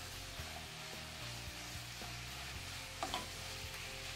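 A fennel bulb sizzles as it cooks in a pan, a steady close frying hiss with occasional stirring scrapes and faint clicks, no talking.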